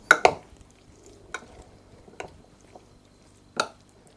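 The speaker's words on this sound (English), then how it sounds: "I'm just working the soup mixture, the soup and cream mixture through" A spoon works a soup and cream mixture through a tuna casserole, giving a few soft, wet squelching strokes spaced apart, close and quiet, with no talking.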